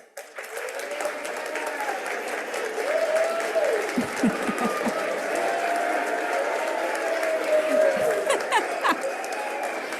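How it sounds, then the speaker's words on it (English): Audience applause at a Green Schools celebration ceremony, a sustained wash of clapping from a crowd that holds steady for the whole stretch, with brief cheers and a short spoken thanks over it. "please stand for a round of applause"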